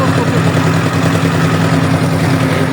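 Steady engine drone with a low, even hum throughout, from boats running nearby on the waterway to Sada Pathor; no voices.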